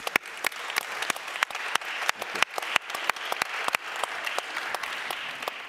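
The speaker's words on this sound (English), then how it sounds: "I think that deserves an applause." Steady audience applause at a health innovation panel discussion, a dense wash of many hands with sharp individual claps standing out throughout, moderately loud and sustained with no talking.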